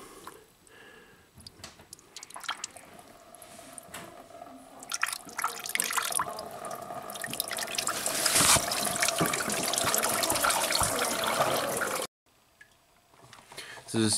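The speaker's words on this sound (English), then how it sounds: "Slide it off and coolant is gonna shoot out of there. And hopefully make it into our" Coolant from a Toyota Camry hose trickles and splashes into a catch pan, building to a steady pour before stopping abruptly, with faint handling noise throughout.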